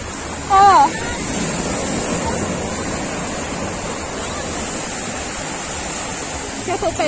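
Ocean waves at a beach make a steady, broad surf roar with wind buffeting the microphone. A brief voice calls out near the start.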